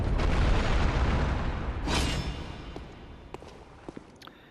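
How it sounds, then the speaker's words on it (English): A heavy bridge lowers after a lever pull in the video game Bloodborne, a deep rumbling boom and grinding roll that swells and fades, followed by a few scattered sharp knocks. "That's going to lower the bridge."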